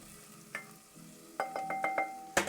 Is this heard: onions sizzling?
yes